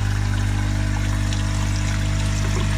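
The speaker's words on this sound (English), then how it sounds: "So the water pump on." A small water pump runs in a PCB etching tank, giving a steady low electrical hum with a continuous gurgle and trickle of circulating liquid over it, close and unchanging throughout.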